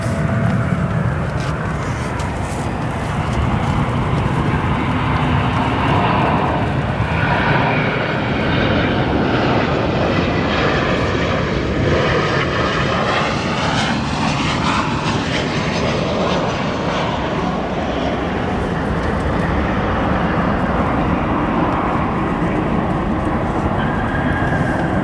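American Airlines Boeing 737 landing at O'Hare, its engine roar loud and continuous, swelling as the jet passes close overhead and then holding steady as it rolls out, with no voices.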